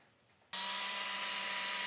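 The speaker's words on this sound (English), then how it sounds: "let me drill it" After a short quiet moment, a power drill whirs on abruptly and keeps spinning at a steady, loud, high pitch, drilling into an off-road vehicle's windshield or rear panel.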